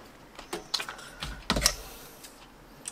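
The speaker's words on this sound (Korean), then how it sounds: "가위로 잘라냅니다" Scissors snip through jersey printing material for Manchester United 24/25 home authentic shirt lettering, a series of crisp, close cutting clicks in an irregular rhythm, with no talk.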